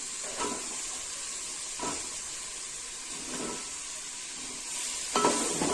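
Vegetables including potatoes sizzle steadily in a hot pan, with a few scraping stirs breaking through the constant frying hiss.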